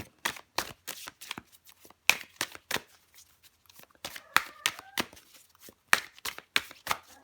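Tarot cards are shuffled and drawn with rapid, crisp riffling flicks and slaps that come in close, irregular bursts, loud and near, with no talk over them.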